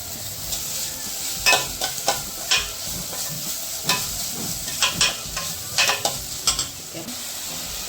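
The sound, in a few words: frying and stirring vegetables for Indian masala pasta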